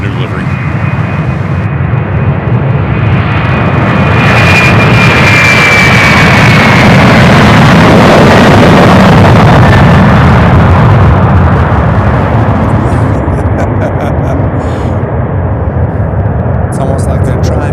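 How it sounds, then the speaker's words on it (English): A loud Airbus A300 jet in new livery passes close by at Louisville International Airport, a sustained roaring, whining engine noise that swells and holds for many seconds, with a high whine fading partway through and a voice talking over it. "We got one coming up. It's A300."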